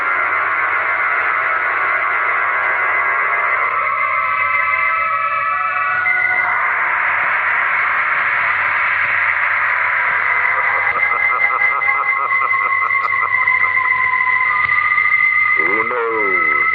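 An old radio broadcast plays from an antique radio speaker, with music and talk continuing steadily throughout, thin and band-limited, ending in a warbling swoop of tuning noise near the end.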